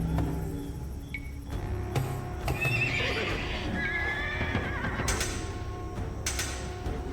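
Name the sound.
horses neighing in burning menagerie, Age of Empires II video game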